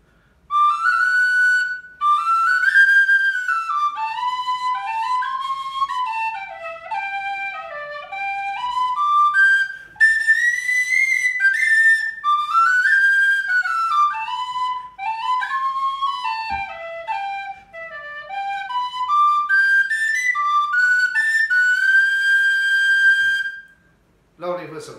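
A lively tune on a Tony Dixon DXTRAD whistle with brass body and plastic head, bright, clear melodic notes rising and falling continuously, played solo and close, with a short pause near the start and the end.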